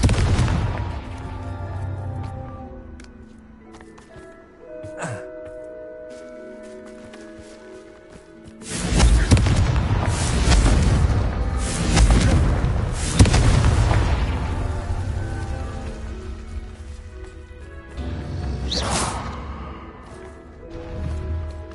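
Confringo fire spells exploding in Hogwarts Legacy: after a quieter stretch with a single sharp pop, a loud cluster of deep booming blasts erupts and rumbles for several seconds, followed by another burst near the end.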